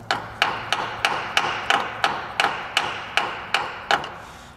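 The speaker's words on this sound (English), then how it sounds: "I do have a brass hammer." Eleven sharp metallic taps from a brass hammer striking Subaru Legacy differential parts, spaced in a steady rhythm about every 0.4 seconds, close and clear with no talking.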